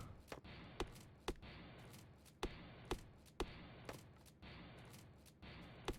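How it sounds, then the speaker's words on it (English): Shotgun blasts in Factorio, roughly eight sharp, fairly close reports spaced irregularly about half a second to a second apart over a steady low background. "my shotgun's clearing out some of it as I go"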